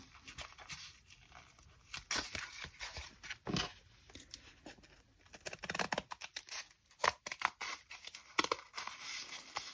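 Scissors snip and crinkle through paper for a festive snippet roll craft project, with an irregular run of close, crisp cuts and rustles, some louder bursts.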